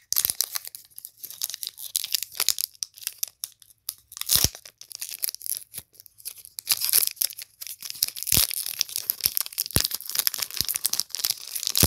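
Crinkly foil of a Pokémon Rebel Clash trading card pack tearing and crumpling up close, in short bursts with sharp cracks, no talking.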